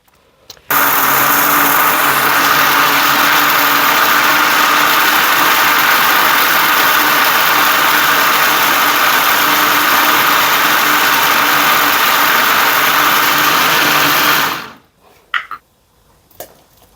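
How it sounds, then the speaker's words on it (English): A food processor blender roars to life and runs at a loud, steady whirring pitch for about fourteen seconds, then cuts off abruptly into quiet. "This is a food processor, so it comes with a blender."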